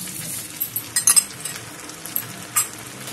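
A utensil stirring dragon pasta with cornflour slurry in a pan, in a village-style kitchen: intermittent scraping and clinking strokes, fairly close and moderate in volume, with faint sizzling underneath.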